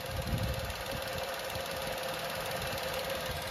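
A 2023 Tata Nexon's BS6 Phase 2 engine idles steadily nearby with a constant, slightly knocking rumble and no talking.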